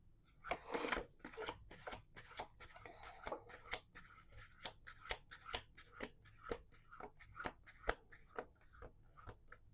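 Repeated crisp riffles and snaps of a card deck being shuffled up close, a dense burst at first, then steady separate flicks.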